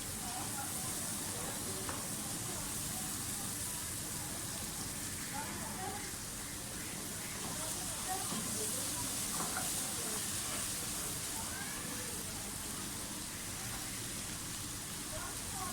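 Garlic ginger paste frying in a pan for a spicy Karachi biryani, a steady close sizzle and hiss like rain that runs the whole time, with a voice talking over it.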